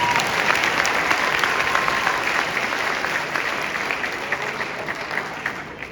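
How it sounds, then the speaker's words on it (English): An elementary school concert audience applauds, a dense burst of clapping that starts full and gradually tapers off over several seconds. "So let's give Olivia a nice big round of applause anyway."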